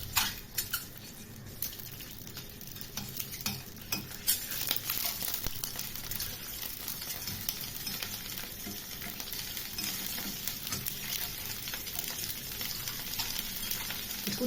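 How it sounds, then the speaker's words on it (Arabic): Eggs fry in ghee while a spoon stirs them, giving a dense, constant sizzle dotted with light scraping and clinks of metal against the pan. "نشوح البيض كده لحد ما يتحمر"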